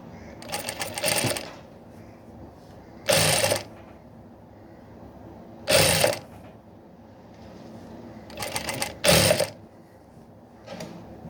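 Sewing machine stitching the cross piece at the neck of a blouse, running in short bursts of rapid whirring separated by quiet pauses, loud and close.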